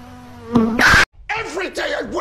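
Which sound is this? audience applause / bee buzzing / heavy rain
bee buzzing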